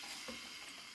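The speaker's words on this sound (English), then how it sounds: "Now that that pan's hot, we're going to add our chicken thighs inside down first. Got that sizzle" Chicken thighs searing in a hot Ninja Combi pan, giving a quiet, continuous crackling sizzle for about a second with no voices over it.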